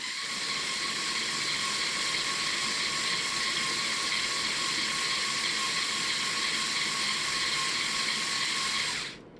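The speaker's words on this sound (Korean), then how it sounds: "리모컨으로 2단으로 변속을 한 후에 자, 2단입니다. 저속 2단." A steady, high-pitched electric motor whine from a Mould King 13124D Jeep Wrangler RC model in low second gear runs continuously for several seconds, then cuts off abruptly near the end.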